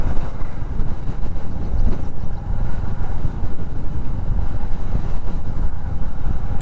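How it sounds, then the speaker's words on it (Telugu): Strong wind roars steadily against the microphone during a Royal Enfield Bullet motorcycle ride on a highway, with heavy low buffeting and engine rumble throughout, loud and continuous with no talking. "గాలి మాత్రం భయంకరంగా వస్తుంది"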